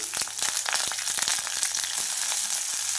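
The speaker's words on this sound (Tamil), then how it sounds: "இப்போ இதெல்லாம் நல்லா தாளித்து விட்டுக்கலாங்க" Onion and curry leaves fry in hot oil for mint biryani, with a lively sizzle and frequent sharp crackles and pops close by. No one speaks.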